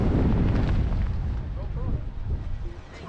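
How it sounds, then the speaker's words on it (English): Strong gusts of wind on the Homer Spit in Alaska batter the microphone with heavy, low rumbling buffets that are strongest at the start and then ease into uneven, choppy bursts. "It's super windy."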